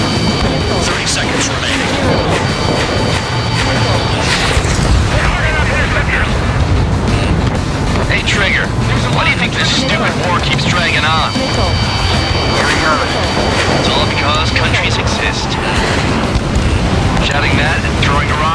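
Missiles explode in the Ace Combat 7 air-combat game, with bursts rising out of a constant loud roar of jet engines while radio voices talk over the din.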